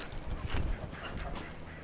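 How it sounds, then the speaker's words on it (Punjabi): A young Gaddi dog puppy on a dairy farm gives soft, faint whimpers and light panting in short irregular bursts, close by and heard alone. "ਦੇਖੋ ਬਈ ਗੱਦੀ ਕੁੱਤਾ ਬਾਹਰ ਕੱਢੇਗਾ"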